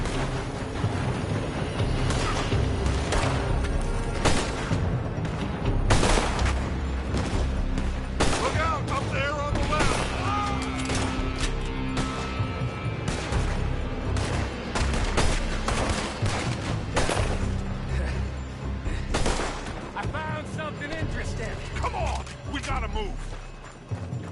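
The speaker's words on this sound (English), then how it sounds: "They're shooting from that building!" Gunfire from a shootout in Red Dead Redemption 2, with rapid irregular shots cracking over a loud, busy battle scene alongside mechanical clicks and creaks, continuing for over twenty seconds.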